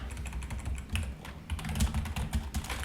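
Rapid, steady keystrokes on a computer keyboard while code is typed, close and fairly quiet, with irregular bursts of clicks and no talking.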